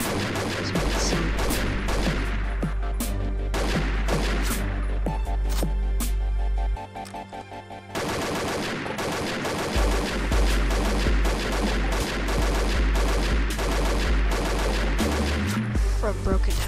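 M417 rifle fired in the Combat Arms video game, rapid loud bursts of close gunshots in long strings, a brief pause midway, then more fire to the end.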